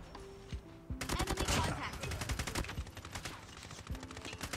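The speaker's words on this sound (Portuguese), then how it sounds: "já escutou o tiro." Rapid bursts of Call of Duty: Mobile gunfire from an AGR 556, dense automatic shots with sharp cracks, continuing steadily after a brief quieter start.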